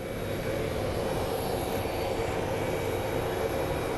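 A Volaris airliner at Phoenix Sky Harbor airport gives off a steady, even jet roar, loud and unbroken throughout, with no one talking.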